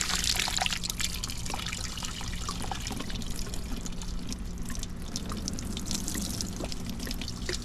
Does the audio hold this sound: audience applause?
no